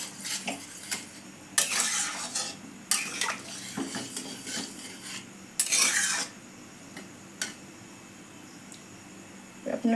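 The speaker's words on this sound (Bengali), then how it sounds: "এবার আমার সিদ্ধ করা মটরটা জল সমেত আমি এর মধ্যে আস্তে করে ঢেলে দেবো। ভালো করে মিশিয়ে নেব।" Boiled peas and their cooking water are poured into a ready masala for paneer mutter masala, then mixed, giving bursts of pouring and scraping stir strokes against the pot between quieter gaps, without talk.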